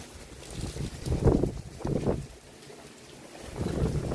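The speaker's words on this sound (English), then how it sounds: "It's a little breezy." Gusty wind from Hurricane Milton buffets the microphone outside a house in steady roaring surges that swell and ease, loud and close, with no talking.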